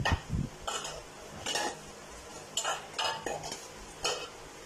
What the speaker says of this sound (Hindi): और इनको जो है वो कद्दूकस कर लेंगे